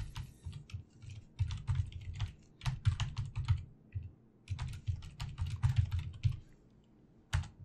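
Username and password being typed on a computer keyboard, a quick, irregular run of close, crisp key clicks coming in bursts with brief pauses, and no voices.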